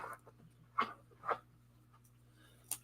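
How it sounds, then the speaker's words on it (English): Teddy the dog scratches and fluffs his big dog bed under a desk, making a few short, scratchy rustling bursts spaced irregularly over a low steady hum, fairly faint and with no talking. "He's got a big dog bed under the desk here, and he's working it over."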